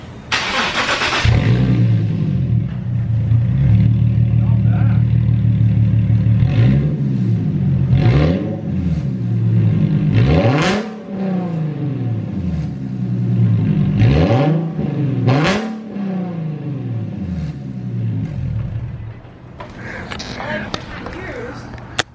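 Nissan 370Z with its exhaust removed, started and revved several times in a garage, loud raw engine surges rising and falling repeatedly, with voices talking over it.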